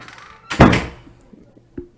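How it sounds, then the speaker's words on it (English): A door slams shut with one loud, sharp thud, then a short quiet stretch and a softer knock. "You're gonna hear a lot of stuff in the background, like door slamming"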